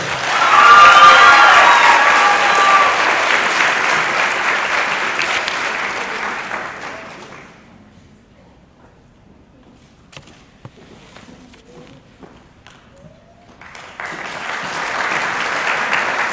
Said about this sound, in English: a big round of applause for all our contestants tonight